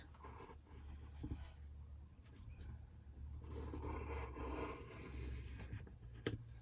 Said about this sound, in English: So I'm going to start to draw my design